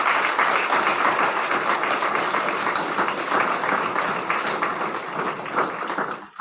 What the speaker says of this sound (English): So one more round of applause for our staff and student winners.